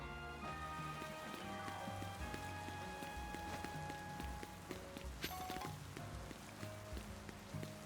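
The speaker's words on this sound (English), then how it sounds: "It's raining." Rain falls in the Pokémon Legends Z-A video game, a soft, steady patter of drops heard faintly at low level, with scattered tapping and no voices.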